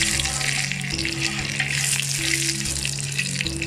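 Chicken pieces sautéing in a hot pan with fenugreek added while making chicken pickle, a steady broad sizzle and crackle with faint stirring throughout, close and continuous, no talk.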